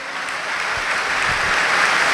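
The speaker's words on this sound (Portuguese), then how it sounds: "Vamos aplaudir ao Senhor." A church congregation applauding during a sermon, a dense, steady wash of clapping from many hands that holds evenly throughout with no speech over it.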